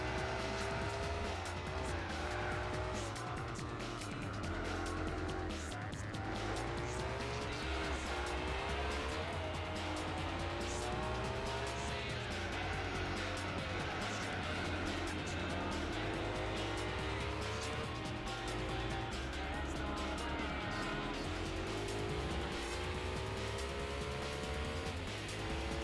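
A race car engine in Gran Turismo 4 revs hard and rises and falls through the gears, with squealing tires layered in, loud and continuous throughout.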